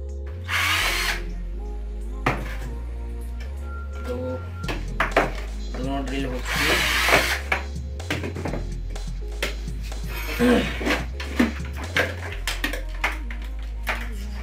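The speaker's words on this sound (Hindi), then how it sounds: "और अब मैं इस पर ड्रिल करता हूँ" A power drill bores into the casing of a dead microwave during a repair at close range. It whirs in repeated bursts with on-off trigger pauses, clunks and handling knocks in between, and someone speaks over it.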